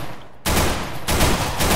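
Rapid bursts of automatic gunfire from a CS:GO match, loud and close, starting abruptly after a brief quiet moment and continuing in dense volleys with a short renewed burst partway through.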